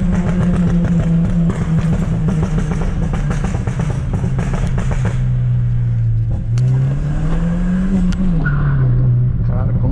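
Remapped Opel Astra 2.0 with 127 hp and a no-hard-cut map, revved hard at night: loud, close engine note climbing and dropping through several rises, with crackling pops and bangs, and talk underneath.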